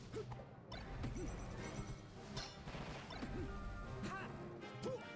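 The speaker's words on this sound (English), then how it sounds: "they're forward smashing each other. Both players going crazy on each other's shield." Forward smash attacks striking shields in Super Smash Bros. Melee, Falco against Fox in a tournament match, a busy stream of sharp hits, whooshes and game effects mixed with background music and crowd noise.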